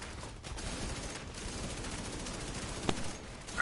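Video game gunfire during a raid, rapid bursts of automatic shots forming a dense, steady crackle at moderate distance, with one sharper report near the end and no talk.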